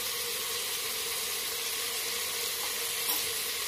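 Vegetables fry in a pan with turmeric and other spices for tahari, a steady, soft sizzle heard close and alone, with one light stirring clink near the end.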